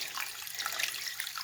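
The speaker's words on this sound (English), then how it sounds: "the stopper so the water can fill up so I don't have to keep turning on the water every single time" Tap water runs steadily into a bathroom sink, a close, even hiss and splash that continues unbroken, with no voices.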